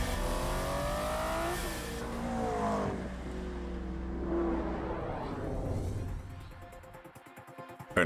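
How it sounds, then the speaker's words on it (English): Aston Martin V12 Vantage S sports car with a V12 engine revving loudly and continuously, the engine note rising and falling over several seconds, with no voices. "An Aston Martin, which would be too tough even for James Bond. The V12 Vantage S"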